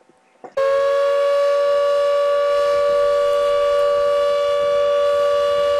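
Fire alarm siren in the video game Minecraft, a loud steady wailing tone that starts abruptly after a brief quiet moment and holds continuously to the end.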